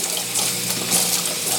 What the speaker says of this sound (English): And then I want to go ahead and I want to start filling it up with water.